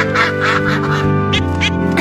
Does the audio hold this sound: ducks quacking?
yes